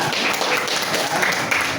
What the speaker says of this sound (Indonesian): oke, baik, tepuk tangannya buat Septian